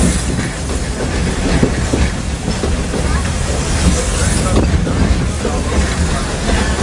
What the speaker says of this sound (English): This old steam train needs water to keep going, just like you and me.